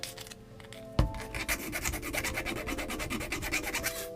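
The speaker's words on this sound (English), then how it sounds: "Now using a sanding sponge, this is kind of a medium grade to rough grit. In a file, we're just going to kind of smooth these out" A medium-to-rough sanding sponge scrubs fake werewolf nails in quick, steady back-and-forth strokes after a sharp knock, a close, dry rasping rhythm with no talking.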